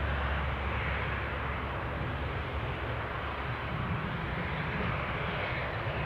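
A Boeing 737-800 airliner departs from Newcastle airport, a steady broad engine roar with strong low rumble holding even and fairly distant for the whole stretch, with no voices over it.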